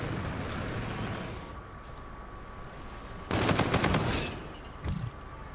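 Video game gunfire erupts as a dense automatic burst mid-clip over a low background hum, then a single heavier thump follows shortly after.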